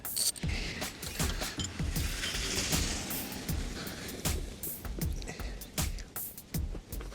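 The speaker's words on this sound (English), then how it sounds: "What's happening is the socket is staying in place and the wrench is slipping." A wrench slipping on a socket while swapping the alternator on a 2008 Toyota Yaris: a loud, rapid series of metallic clicks and rattling ratchet-like snaps, close and continuous throughout.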